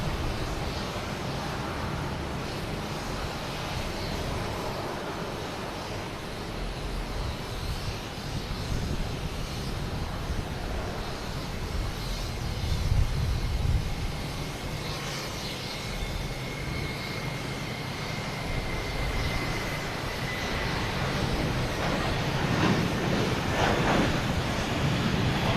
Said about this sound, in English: You also have a JetBlue taking off,